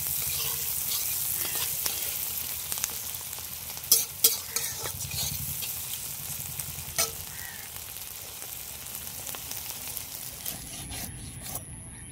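Fish caught from a pond frying in a pan, a steady hissing sizzle with a few spatula scrapes and knocks against the pan, moderately quiet and close, no talking.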